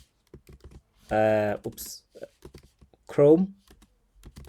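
Sparse clicks of typing on a computer keyboard, close and light, broken by two short bursts of speech.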